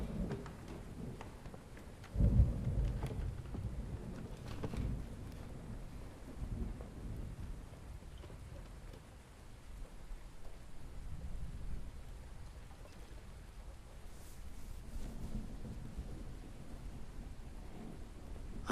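A heavy thunderstorm with steady rain pours down on a stormy moor setting, with a loud close thunderclap early on followed by continuous rumbling and dense rainfall throughout.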